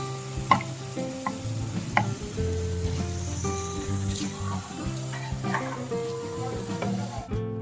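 Potato bites frying in oil for a quick breakfast snack, a soft continuous sizzle with scattered clinks and knocks of a utensil against the pan, close and moderate in level.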